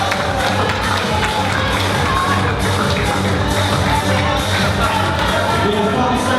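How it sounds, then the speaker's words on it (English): Crowd cheering and shouting at a university Eid party, a steady, loud wall of voices with whoops across the whole stretch, dense and continuous rather than rhythmic clapping. "A loud applause for these guys, please."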